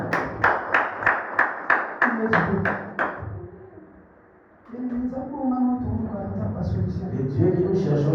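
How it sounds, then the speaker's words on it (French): A church congregation claps in a quick, regular rhythm for about three seconds before the applause fades, then a voice speaks over a quieter hall. "Nous sommes assis et nous acclamons la parole très fort."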